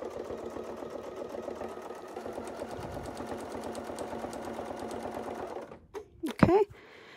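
A sewing machine stitches a quilt, its rapid needle chatter running steadily for several seconds before stopping. A couple of brief handling noises follow at the end.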